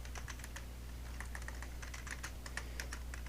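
Rapid keystrokes on a computer keyboard while creating a folder, light irregular clicks pattering steadily and close over a low hum, with no voices.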